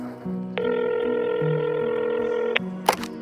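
A single steady electronic telephone tone holds for about two seconds over soft background music, followed by a brief click.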